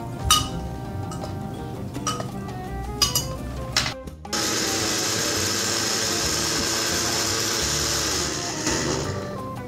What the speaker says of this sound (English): especially when the blender is running